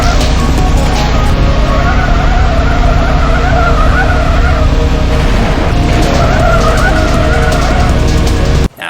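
A small Bond-style car drifts with tires skidding and squealing in long sustained smears over steady engine noise, loud and close throughout, cutting off abruptly at the end.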